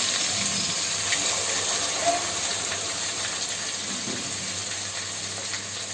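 Korameenu fish pieces frying in hot oil over a low flame, a steady dense sizzle and crackle running throughout without pause, fairly loud and close.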